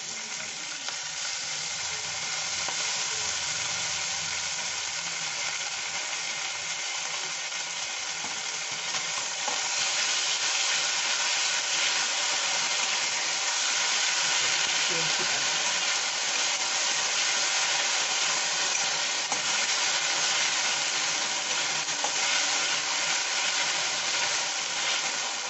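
Ginger-garlic paste, about a spoonful, fries in a pan of oil for a chilli soya dish, giving a steady, dense sizzle and hiss that runs unbroken and fairly loud throughout, with no voices.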